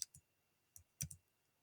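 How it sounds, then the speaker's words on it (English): Computer mouse clicks and an enter keypress, a handful of crisp, close taps spaced irregularly, with two quick clicks near the end, in an otherwise quiet room. "we're going to drag that line downward by holding on the mouse, getting down about here, clicking again and hitting enter"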